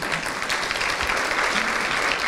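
Audience applause at a speech honouring women, a steady wash of clapping hands throughout, fairly close and even in loudness with no talk over it.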